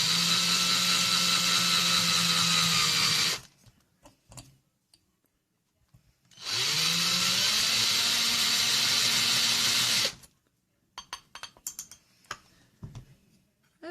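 A power drill whirs in two loud bursts of a few seconds each, drilling a hole in a metal tart tin resting on wood, its motor pitch rising as it spins up, with faint clicks and handling noise between them.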